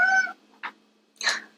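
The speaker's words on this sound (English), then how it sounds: "my cat is complaining about being stuck in the room with me for the moment" A pet cat shut in a room meows complaining, two short separate calls, the second louder and longer after a brief earlier voiced sound, close by in a quiet indoor space.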